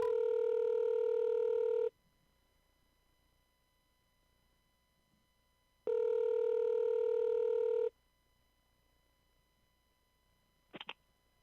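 Electronic telephone tones come in two long steady bursts of about two seconds each, separated by silence, followed by a short faint double blip near the end, as a call is placed and rings out.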